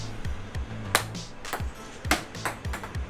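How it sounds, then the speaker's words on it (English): Table tennis ball struck back and forth in a casual game, with several sharp clicking pings at an irregular rally rhythm over a low background hum and no speech. "Let's play table tennis."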